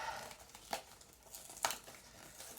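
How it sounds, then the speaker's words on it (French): A paper envelope being torn open by hand, with a few quiet, close crinkling rips and crackles spaced irregularly against a low, hushed background. "Je vais en venir à bout de cette enveloppe."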